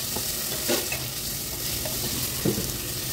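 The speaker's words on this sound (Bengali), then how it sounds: "ভালো করে কষে নাও, নাড়ো, ভালো করে ঘুরিয়ে নাড়ো।" Cabbage with spices frying and being stirred in a pan, a steady low sizzle with occasional scraping stir strokes, moderately faint and continuous throughout with no talking.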